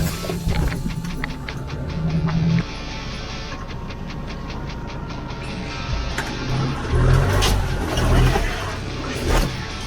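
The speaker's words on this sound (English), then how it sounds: "Now accelerate on and off while you are driving through these ruts" A Mahindra Thar engine drones steadily while driving off-road through ruts, loud and continuous with rumbling, revving swells and clunks from the rough ground.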